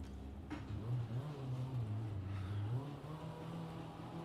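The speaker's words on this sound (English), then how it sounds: "Let you hear the car sounds as well" A rally car engine in the racing game EA Sports WRC idles and revs with a steady, droning tone that rises and dips slightly, heard alone at moderate volume.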